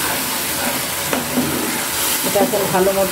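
Mustard paste with Kashmiri chili powder frying in oil for pomfret, a close, constant sizzle with stirring scrapes, while a voice speaks briefly over it.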